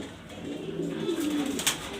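An Afsan Sundori pigeon of grizzle colouring coos softly at close range, a low rolling call over faint background noise.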